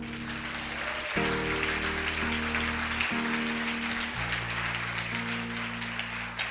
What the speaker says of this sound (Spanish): Y denle un aplauso a Dios si puede, ahora sí.